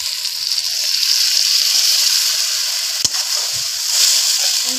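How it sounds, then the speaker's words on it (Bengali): Spice paste sizzling steadily in hot oil in a pan for a Bengali pointed-gourd curry, a continuous close frying hiss with one brief sharp knock near the middle. "আমার মশলা দিয়ে তেলটা ছেড়ে গেছে, মশলাটা ভালো করে কষানো হয়ে গেছে"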